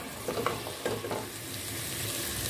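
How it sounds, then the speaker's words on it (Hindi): Thick potato slices frying in a pan for achari aloo, a soft steady sizzle with a few light scraping stirs early on, close and quiet. "अब मैं ये इसे शामिल कर रही हूँ और इसे मैं 5 मिनट तक फ्राई करूँगी"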